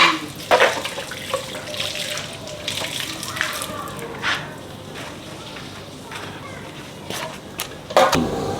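Cut pieces of fish are washed with water in a bowl, with splashing, trickling and occasional clatter up close, while people talk nearby.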